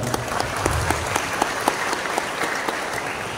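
Audience applause fills a sharing session held at IAIN Palangkaraya, a steady wash of many hands with sharper individual claps poking through, sustained and fairly loud throughout.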